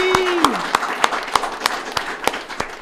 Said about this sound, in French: Bah oui, on applaudit, mais oui